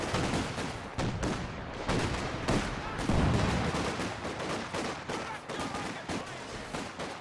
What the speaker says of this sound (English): that is the artillery coming down from the Pyrotechnics upgraded squad